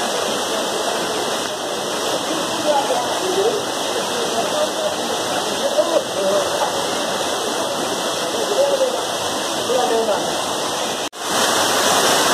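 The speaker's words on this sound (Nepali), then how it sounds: "एउटा यो सानो झरना मात्रै हो।" A small waterfall at Baghmara near Melamchi, Sindhupalchok, Nepal rushes in a steady broadband roar that stays loud and close throughout, with a brief dropout near the end.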